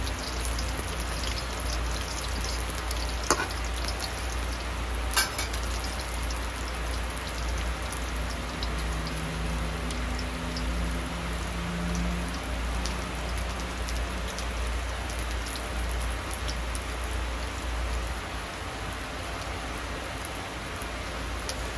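Chitol fish kofta balls fry in oil with a constant, even crackle and fizz resembling steady rain, moderately loud and unbroken, with a couple of faint clicks and no talking.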